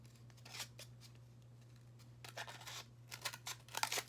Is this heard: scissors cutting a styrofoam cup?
yes